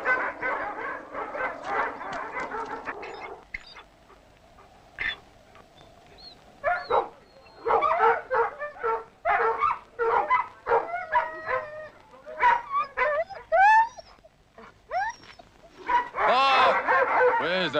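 A Spitz dog barks and whimpers indoors in short, uneven bursts with high whines and yips, close and fairly loud, with quiet gaps between them and a stretch of low murmuring sound early on.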